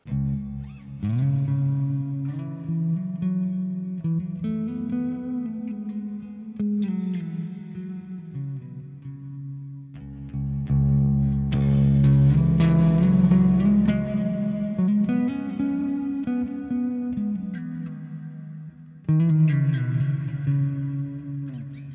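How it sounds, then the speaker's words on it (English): Electric guitar played clean through a hall reverb, chords and sustained notes ringing out with long washy tails, a brief dip near ten seconds before the playing swells again. "let's add a bit of a reverb, hall, whatever you like"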